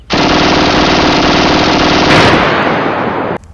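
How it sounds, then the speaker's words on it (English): Cartoon eyeball guns blasting as a loud, rapid machine-gun rattle that runs continuously for about three seconds, then stops abruptly. "I'll use my eyeball guns."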